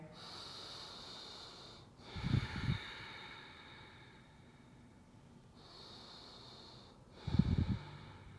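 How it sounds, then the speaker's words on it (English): During a vinyasa yoga flow, two slow rounds of deep breathing pass through a quiet room, each a soft, airy exhale ending in a louder, breathy release, spaced a few seconds apart. "Take 2 more rounds of breath here"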